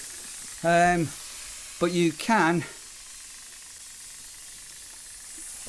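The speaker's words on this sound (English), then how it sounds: "so yeah, get some steam going" A handheld steam cleaner with a sprayer attachment gives off a faint, steady hiss of steam that runs through the whole stretch, beneath a few short spoken words.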